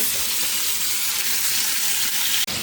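Fish sizzles loudly in a hot frying pan, a dense continuous hiss and crackle close up, with a brief clunk near the end.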